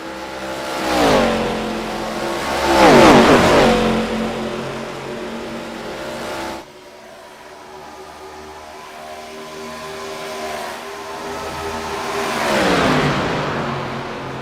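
ARCA stock race cars roar past on the front straightaway at EchoPark Atlanta, engines swelling loud as each car passes close and then fading, with a second pass building again near the end.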